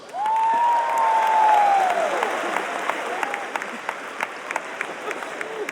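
A large comedy-show audience at Madison Square Garden bursts into loud, sustained applause that gradually thins into scattered claps, with a voice calling out early on.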